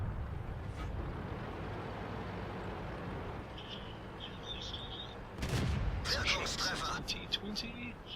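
Tank cannon fire in a World of Tanks battle, with a KV-2 among the tanks: a dense rumbling din of engines and distant shots, then a louder burst of gunfire and impacts near the end, with a voice talking over it.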